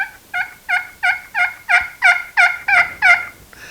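A hand-held turkey call imitates a soft hen with about ten short, evenly spaced clucking yelps. Each note is clear and close, and no voices are heard alongside.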